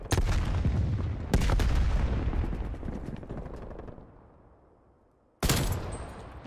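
Rocket explosions in Call of Duty Cold War: a loud blast with rapid crackling bursts, then a second heavy impact whose rumble slowly fades to near quiet, before a third sharp blast hits abruptly.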